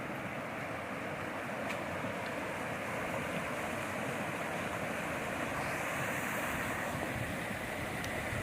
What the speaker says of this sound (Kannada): ನಮ್ಮದು ಹಳದ ನೀರು ಎಷ್ಟು ಚೆನ್ನಾಗಿ ಹರಿತಾ ಇದೆ.